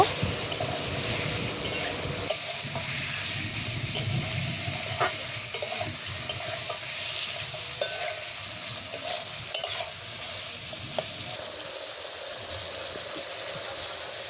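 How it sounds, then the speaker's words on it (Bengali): Cut potatoes sautéing in hot oil for a river small-fish curry, a continuous soft sizzle with intermittent stirring scrapes and clinks throughout, fairly quiet and close, no talk. "আলুগুলো দিয়ে বেশ কিছুক্ষণ ভালো করে কষিয়ে নেব"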